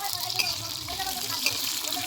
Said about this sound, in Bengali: তো তেলের মধ্যে আলুটা ভাজা হচ্ছে